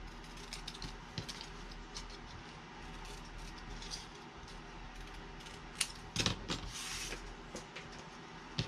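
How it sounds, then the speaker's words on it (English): Scissors snip through paper flower pieces in a run of quick, close clicks and crunches, with a louder burst of cuts near the end, alone with no talk. "So I'm going to cut these out now."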